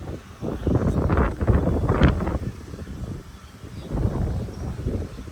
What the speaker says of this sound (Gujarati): સ્પીડમાં પવન આવે